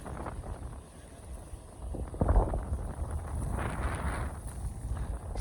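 Wind buffets the microphone in a low rumbling roar, swelling in gusts and staying steady throughout.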